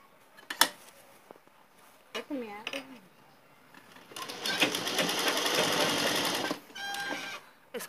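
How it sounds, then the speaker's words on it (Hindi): A sewing machine stitches a girls' short jacket in a steady, close, loud whirring run of about two and a half seconds, with shorter bursts before and after, clinks and handling noises, and a voice speaking briefly. "टर्न करने के बाद हमने ऊपर से एक सिलाई चला ली है"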